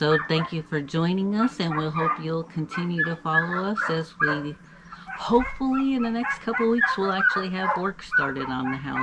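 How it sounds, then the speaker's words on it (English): A neighbor's hunting dogs bark now and then in the background of a rural Serbian village yard, mostly covered by a person talking steadily in the foreground. "Sorry about the barking dogs."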